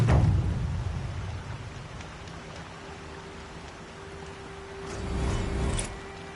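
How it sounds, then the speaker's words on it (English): Rain falls in the Horizon Zero Dawn video game, a soft continuous patter with low rumbling that swells again toward the end, with no one talking. "The smell of rain. Air is heavy with it."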